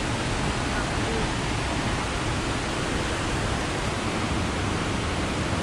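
Water rushes steadily down a stream near Burude Waterfalls outside Sirsi, a dense, unbroken roar of even loudness filling the whole stretch without pause.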